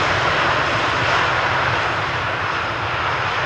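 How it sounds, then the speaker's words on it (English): A KLM airliner lands at Amsterdam Schiphol's Polderbaan runway on a hot sunny day, its jet engines producing a loud, steady, broad roar that persists throughout without voices. "KLM style subdued landing"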